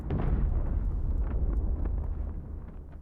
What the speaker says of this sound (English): That would probably be the prison explosion.